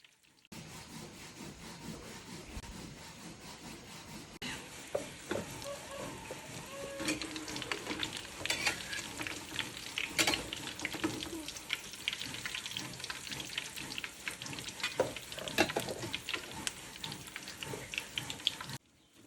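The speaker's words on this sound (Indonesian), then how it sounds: "Selesai goreng perkedel" Perkedel potato fritters sizzle steadily in hot oil for a long stretch, with occasional crackles and clinks of a utensil stirring or lifting them in the pan.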